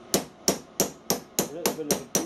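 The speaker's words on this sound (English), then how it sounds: "I have got a panel beating hammer." Panel beating hammer shaping small silver oiler caps for a traction engine into domes, eight sharp metallic blows at an even, steady rhythm, close and clear with no talk.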